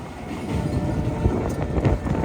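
A train rolls past nearby as a steady low rumble with a rattling, clattering texture that swells slightly toward the end, with some wind buffeting on the microphone.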